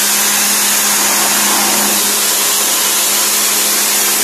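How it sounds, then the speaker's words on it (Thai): A high-pressure water pump sprays a steady, loud, hissing jet onto an air conditioner coil during cleaning, a continuous close roar with a faint motor hum beneath and no talk. "ถ้าคุณมีปั๊มแรงดันเนี่ยนะ"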